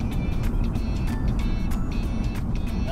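A 37-year-old blue-pink SA car drives steadily with a constant low engine and road rumble filling the cabin, loud and unbroken throughout.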